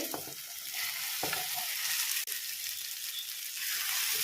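Pumpkin pieces are stirred into a pan of fried onions, tomatoes and ginger-garlic paste, giving a steady close sizzle with a few soft scraping stirs throughout.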